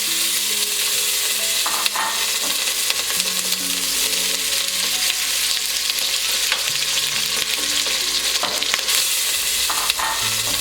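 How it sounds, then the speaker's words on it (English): Sliced potatoes sizzle steadily in a hot pan for a Spanish omelette, a loud, continuous frying hiss with occasional stirring clinks and no talking. "The pan is hot now. We need to drop the potato."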